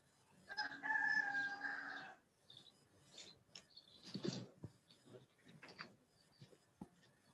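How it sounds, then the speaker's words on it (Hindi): A rooster crows once, loud and close, a long drawn-out call, followed by faint talking and scattered background noises. "तुम्हारे मुर्गे की आवाज ज्यादा आ रही है"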